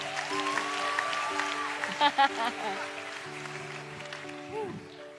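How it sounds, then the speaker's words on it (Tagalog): A church audience claps harder for a surgeon being welcomed on stage. The dense, continuous applause runs under a voice and tonal background, with a couple of brief louder bursts midway. "Mas malakas pang palakpak!"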